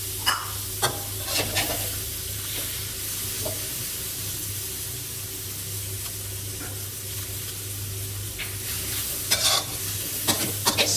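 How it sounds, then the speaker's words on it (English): Cooked ramen noodles stir-fried with dark soy sauce in a pan for a Thai dish, giving a constant close sizzle with repeated tossing scrapes and occasional sharp utensil clacks, no voices. "Stir and toss into the sauce carefully so you don't break or chop up the noodles."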